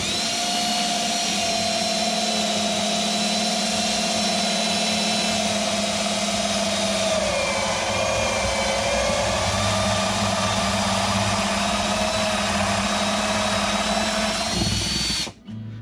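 Power drill boring through the body of a Collings C100 Deluxe SB acoustic guitar along a pilot hole, a loud, steady whine with a brief pitch dip midway, running continuously until it stops abruptly near the end.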